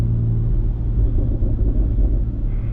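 A BMW X3M with a loud aftermarket exhaust rumbles deep and close during an aggressive downshift, a steady low burbling growl with no talk over it.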